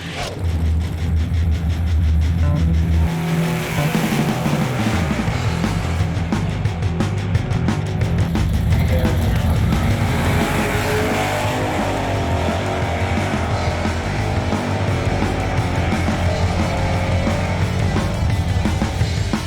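A stock 1985 Corvette with an automatic transmission runs at a drag strip, its engine droning loud and steady with a rising roar that holds for the whole stretch.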